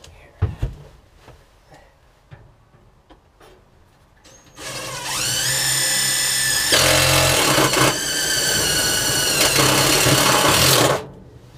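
A power drill drives a self-tapping lag screw into a work van's metal frame, starting with a few scattered clicks and handling knocks, then a loud whining motor runs steadily for about six seconds, briefly dipping in pitch under load before stopping.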